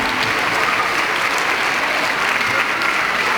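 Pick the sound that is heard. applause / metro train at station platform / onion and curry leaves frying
applause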